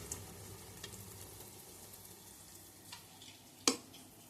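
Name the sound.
purnalu dumplings frying in oil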